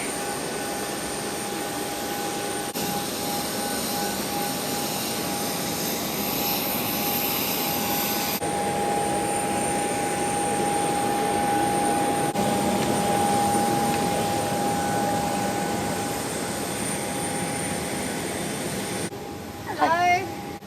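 Jet engines of a Virgin Australia Boeing 737-800 whine and roar steadily on the airport tarmac, a loud continuous drone with a high tone, close by, fading near the end.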